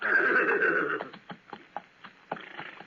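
A horse whinnies loudly in an old radio drama, then hooves clip-clop in a steady run of soft knocks that fade slightly.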